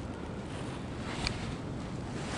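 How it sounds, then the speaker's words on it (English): Strong cold wind blowing on a mountain section of the Appalachian Trail between Indian Grave Gap and Dick's Creek Gap, a steady loud rushing roar buffeting the microphone, with no voices. "The wind is crazy right now. You see it blowing."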